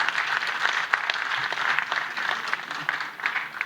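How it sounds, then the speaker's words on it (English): A conference audience at an economic dialogue applauds a speaker walking onto the stage: dense, even clapping from many hands held at a steady level for a few seconds. "Can we give him a big round of applause?"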